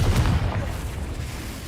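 A Confringo spell explosion in the Hogwarts Legacy game, a loud booming burst at the start that fades into a rumbling tail.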